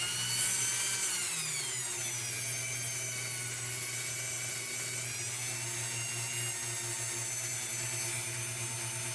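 A Dremel rotary tool, turned down to reduced RPM while cleaning a copper fount cold blast lantern, whines steadily and continuously at close range, its high-pitched motor tone shifting slightly as the speed drops early on.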